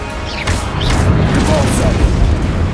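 A Confringo blasting spell goes off in Hogwarts Legacy, a loud roaring burst of fiery explosion that whooshes and rumbles on without a break.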